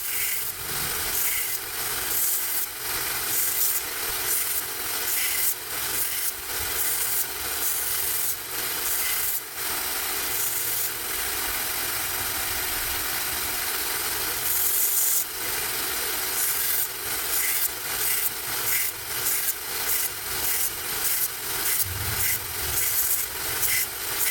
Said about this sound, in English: Just going to shape the blade up, sharpen it, dust it out